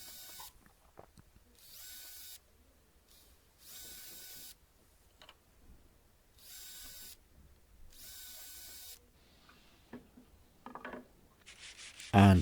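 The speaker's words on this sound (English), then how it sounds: "I then put 2 pilot holes" A power drill whirring in several short bursts as it drills pilot holes in scrap wood, with pauses between, faint knocks and handling noises in the gaps, ending in a louder clatter.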